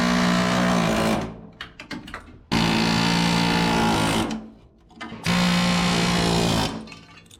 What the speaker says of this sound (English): we should be able to air hammer against it